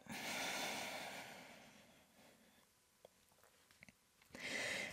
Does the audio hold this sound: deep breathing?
yes